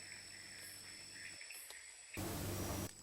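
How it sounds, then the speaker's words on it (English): Crickets chirp at night in a rainforest in Tanjung Puting National Park, a faint, steady insect chorus running throughout, briefly swamped near the end by a burst of loud broadband noise. "You can hear many of them chirping away, but they are hard to spot."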